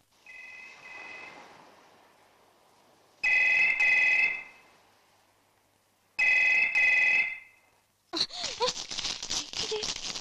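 A telephone in a movie scene rings unanswered in two loud, evenly spaced bursts, each about a second long, before voices and scuffling noises follow.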